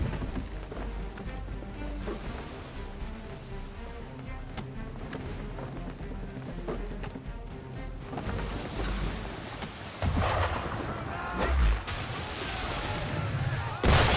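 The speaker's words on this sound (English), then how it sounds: "Why is he shooting at us?" Cannon fire at sea during a naval encounter in Assassin's Creed 3: a dense, rumbling battle bed with booming blasts and heavy impacts, louder bursts arriving toward the end.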